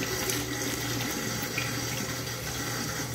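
Tap water running steadily into a sink while hands are washed with soap, a close, continuous splashing rush with no pauses and no talking.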